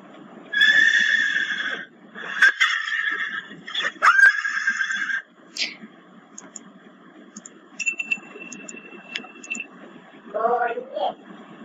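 Several loud horse neighs and whinnies ring out up close in quick succession, with a faint clink and a little hoof clatter between them, and a short rising call near the end.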